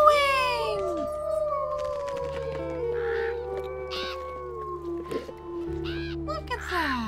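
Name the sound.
wolf howling in the video game WolfQuest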